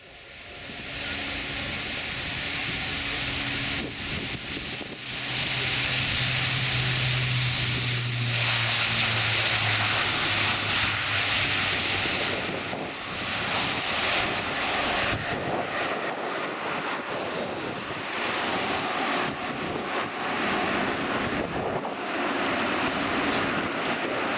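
An Airbus A400M Atlas turboprop military transport takes the runway and rolls for takeoff at an air show, its propeller engines droning loudly and steadily throughout, swelling in the middle and holding a strong roar to the end.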